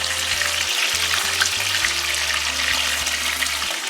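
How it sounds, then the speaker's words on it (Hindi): Fish pieces lightly fry in hot oil for a fish korma curry, giving a steady, close sizzle and crackle that runs unbroken, with no talking. "ये देखिए, ये इस पीस की तरह बिल्कुल लाइट सा आपने इन फ्राई करना है।"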